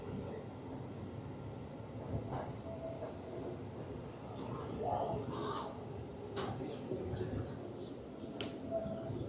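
A train in Tachikawa, Japan, rumbling steadily at low level with faint clicks and squeaks over the rails, soft background murmur throughout.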